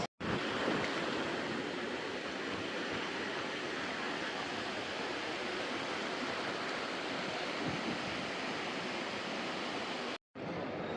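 Sea waves wash steadily onto a beach in Valencia, a continuous broad roar of surf that stays loud and close for about ten seconds, then cuts off briefly near the end.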